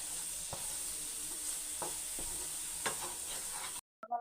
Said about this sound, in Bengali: সবগুলো উপকরণ আমি তেলের সাথে খুব ভালোভাবে ভেজে নেব।